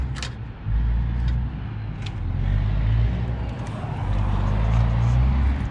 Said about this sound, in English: There's a dump truck going by